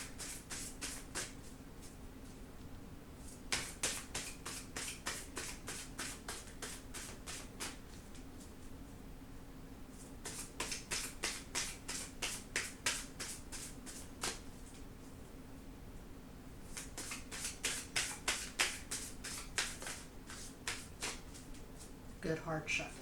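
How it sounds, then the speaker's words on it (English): Tarot cards are shuffled hard in bursts of rapid riffling clicks, with three long shuffles separated by pauses, close and fairly quiet over a low steady room hum. "Good hard shuffle."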